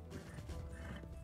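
Horse hooves in Red Dead Redemption 2, quick clip-clop footfalls at a gallop, close and steady over a low rumbling game soundscape.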